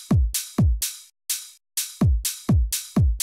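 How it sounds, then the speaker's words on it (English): Open hi-hat and kick layered in a tech house drum pattern: hi-hat hits on the offbeats with bright, sizzling decays, alternating with deep kick thumps in a steady groove, loud and alone with no talk. "And then next up, I did the open hi-hat, which sounds like this."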